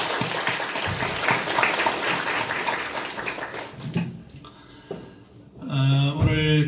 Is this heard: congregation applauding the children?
yes